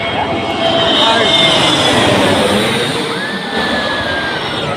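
A loud, sustained airplane engine roar passes overhead, steady and broad, with people talking faintly beneath it.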